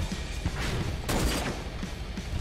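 Gunfire in the Werewolf: The Apocalypse – Earthblood video game, a dense, rumbling fusillade of shots with one louder burst midway, sustained throughout at a steady, moderately loud level.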